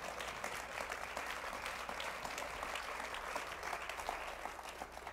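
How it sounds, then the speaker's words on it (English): An audience at the Minneapolis mayor's final State of the City address breaks into sustained, dense applause, a continuous wash of many hands clapping at once, heard from some distance and holding steady throughout. "That deserves a round of applause, right?"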